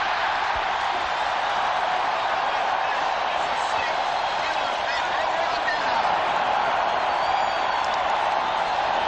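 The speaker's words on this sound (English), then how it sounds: "This crowd at Three Rivers ready to celebrate if Elway doesn't convert." A large stadium crowd at Three Rivers roars continuously during a 1997 Broncos at Steelers football game, a dense, loud, unbroken wash of cheering.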